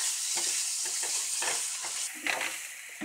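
Onions sizzle and fry with ginger, salt and spices in a pan while a spoon stirs them for an egg dish. Steady close frying hiss runs throughout, with soft scraping strokes.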